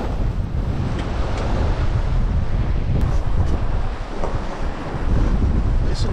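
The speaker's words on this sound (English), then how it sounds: "Listen to the wind blow." Strong wind roars continuously across a sailboat's microphone at sea in the Bay of Biscay, with waves and hull noise rumbling beneath the gusts.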